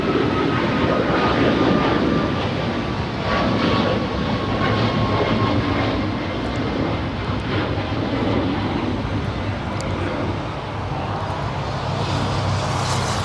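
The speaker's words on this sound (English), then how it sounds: "We have United 777 on the takeoff roll." A United Boeing 777 airliner on its takeoff roll at LAX, a broad, loud engine roar that stays steady for the whole stretch with no voices over it.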